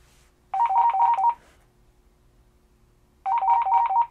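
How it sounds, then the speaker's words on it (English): AT&T DECT 6.0 cordless phone handsets (CL82407) ringing from the base's find-handset feature: two short bursts of trilling electronic ringtone, close and clear, separated by about two seconds of quiet. "all the handsets will ring"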